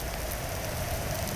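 Steady rain during a rickshaw ride on a road in the first rain of the season, a continuous broadband hiss with a low rumble underneath, no voices.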